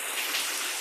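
Heavy rain during a thunderstorm falls steadily as a dense, even hiss, close by and moderately loud, with no voices.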